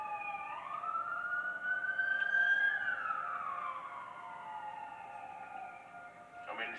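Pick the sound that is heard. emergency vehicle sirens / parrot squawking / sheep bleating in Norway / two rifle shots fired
emergency vehicle sirens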